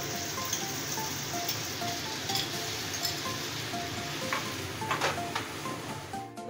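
Green chili paste frying and being stirred in a pan with tomato for chicken khichri, a steady close sizzle with scattered crackles and occasional clinks of a utensil, no talking.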